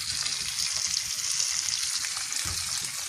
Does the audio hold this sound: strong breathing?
no